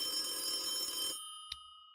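A telephone ringing for an incoming call during a live tech chat stream, a steady electronic ring that cuts off and is followed by one short chirp, with no one talking.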